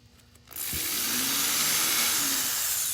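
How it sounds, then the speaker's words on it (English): A power drill bores a small hole through the wing of a handmade Christmas ornament, starting abruptly after a brief quiet moment and then running as a steady, loud whine close by until the end. "Let me make sure it's completely drilled through."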